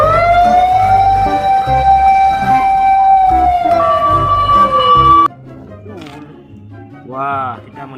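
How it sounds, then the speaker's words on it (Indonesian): A toy fire truck siren wails loudly in a steady, wavering electronic tone, then cuts off abruptly; faint voices and handling noises follow. "Ini mobil pemadam kebakaran"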